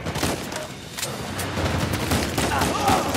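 Gunfire in the Uncharted 4 video game: dense bursts of shots crackle through a busy, noisy game mix, with other action sounds layered underneath.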